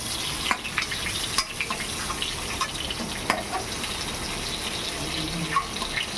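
Pointed gourd (potol) frying in oil, a steady close sizzle with faint scattered clinks and crackles throughout, no voices.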